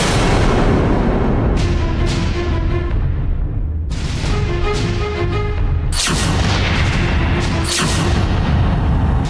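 Loud gunshots in a Bengali TV drama, fired at a boat, come as several heavy booming bursts over a dense, continuous background score.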